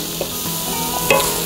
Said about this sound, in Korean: 그리고 샬롯까지 넣어서 볶아줍니다.